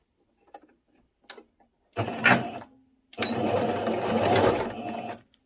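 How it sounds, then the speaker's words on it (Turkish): A sewing machine stitches a lace-trimmed elastic skirt: a few faint clicks, then a short burst of stitching and a longer, louder steady run, close up. "Şimdi makinede dikişine geçelim."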